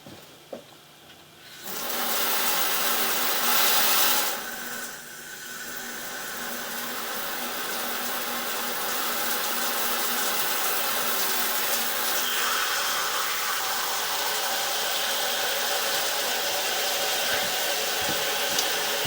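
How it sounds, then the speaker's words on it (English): Water running from a tap into a stationary utility tub, with a strong, steady rushing hiss that starts abruptly after a short quiet lead-in and carries on unbroken. "I'm going to go ahead and run some water in this stationary tub"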